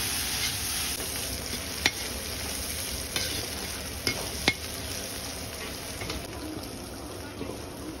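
Onions frying in a kadai for onion dal make a steady, soft sizzle with a few sharp clinks of a spoon against the pan.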